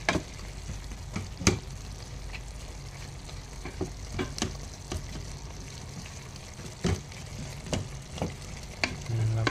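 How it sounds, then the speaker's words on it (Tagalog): Chicken adobo sweetened with stevia is stirred in a frying pan, a spoon scraping and clacking in repeated sharp knocks over a steady close sizzle. "Haluin natin."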